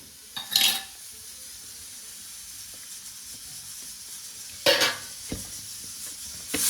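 Boiled potato filling for batata vada is stirred and mixed in a pot, giving a few short, loud scraping bursts separated by quiet stretches, with no talk.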